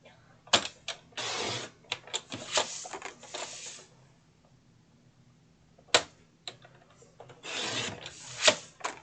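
Cardstock mats for a handmade card are cut on a paper trimmer, giving short rasping slides and clicks in bursts with quiet gaps between, close and fairly soft, with no talk.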